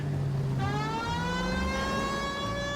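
Police car siren in the video game L.A. Noire, a loud wailing tone that cuts in sharply under a low engine hum and holds steady for a few seconds, close and alone without talk.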